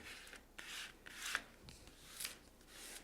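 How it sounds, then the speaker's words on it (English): Application tool rubbed over a vinyl stencil to press it down, faint scraping swipes repeated in short irregular passes, close and quiet with no talk. "go over it with our application tool"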